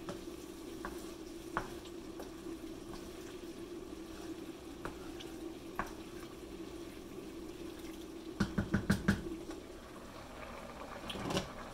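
Ground turkey with fire roasted tomatoes cooks in a pan with a soft, low sizzle under a steady hum, a few scattered clicks and a short burst of clattering stirring near the end.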